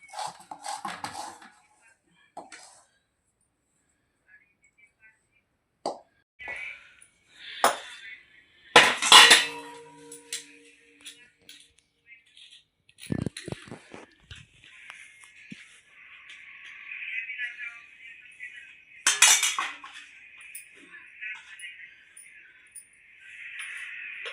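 A kadhai scrapes and clatters while peanut laddoos are made, with sparse clinks and knocks of metal on metal and a few sharp bangs between quiet gaps.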